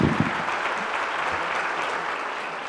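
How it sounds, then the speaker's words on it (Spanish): Sustained audience applause fills a presentation ceremony for a regional office's strategic document, a dense, steady clatter of many hands clapping throughout with no speech over it. "pido un aplauso para todas estas personas"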